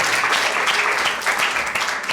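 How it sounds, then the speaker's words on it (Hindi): A church congregation claps loudly together to thank God, a dense, even wash of applause that fills the room for the whole stretch. "जोरदार ताली बजाकर परमेश्वर का धन्यवाद करें"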